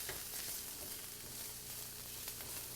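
Food caramelizing in a frying pan, with a steady close sizzle and crackle of hot oil that runs without a break, and a few stirring scrapes on top.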